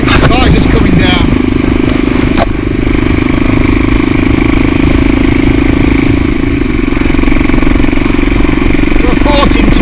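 A CCM Blackout motorcycle engine under way on the road in top gear, a steady loud droning hum with wind rush throughout, heard from the rider's position while he talks over it.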